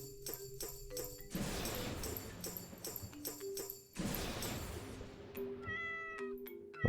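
A cat meows repeatedly in drawn-out calls at close range, with a steady tonal background and no talking.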